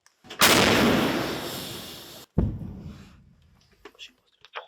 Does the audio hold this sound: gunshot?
yes